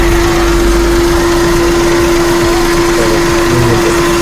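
A used Alto K10 car engine idles steadily nearby, a constant droning hum with a faint whine and no pauses.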